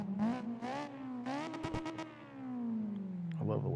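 In the CarX Drift video game, a drift car's engine revs in repeated surges, its pitch climbing and falling with sweeping rises and a long descending whine, loud and close, with a voice talking over part of it.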